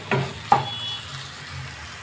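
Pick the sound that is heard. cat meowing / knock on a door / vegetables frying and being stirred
vegetables frying and being stirred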